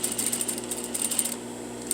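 A sewing machine back tacks a seam while a railroad zipper is being set, running in a fast rhythmic stitching chatter, then pausing briefly before a final few stitches, heard up close.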